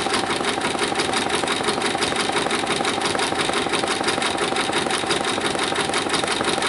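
An embroidery machine stitches a rain jacket hood with a fast, even needle chatter and a steady motor hum, loud and unbroken throughout, with no voices.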